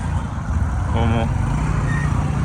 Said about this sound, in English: Cruising with the bike.